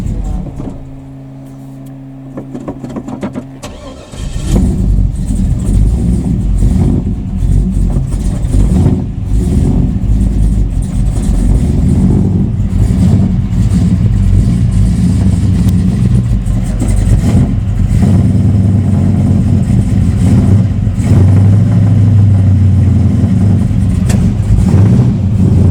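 A 2006 Chevrolet Monte Carlo with a swapped LS 5.3 V8, unstarted for a month, cranks and fires up without a choke a few seconds in, then settles into a loud, steady idle with rising revs toward the end.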